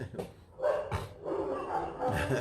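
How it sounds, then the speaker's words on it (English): Dogs barking early in the morning in Mexico, several sharp, fairly distant barks in an irregular sequence over faint background noise. "their dogs are doing their job and making a lot of noise"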